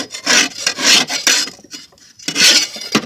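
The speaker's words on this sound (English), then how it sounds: "take your time for a minute, scrape the deck. Just use the damn blade if you got it, or a screwdriver." Close, loud rasping scrapes of a blade or screwdriver being dragged across a lawnmower deck, coming in several rough strokes separated by short pauses.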